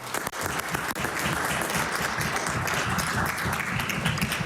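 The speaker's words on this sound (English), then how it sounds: "Would you mind standing up, Robert, so we give you a round of applause?" Applause fills a legislative chamber during a House of Assembly sitting, a steady round of clapping from many hands that carries on evenly for several seconds at moderate level, with no voices over it.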